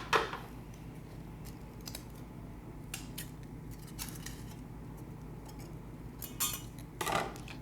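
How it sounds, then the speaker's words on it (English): Scissors snip a thin strip of material folded in half, cutting it through the middle during a wheel repair; a few soft, quiet clicks and rustles over a low steady background hum, with a slightly clearer snip near the end. "Cut it directly in half."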